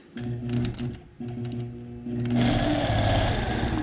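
A sewing machine stitches fabric for a sea lace border quilt, running in short whirring bursts with a brief pause before a faster, louder continuous run.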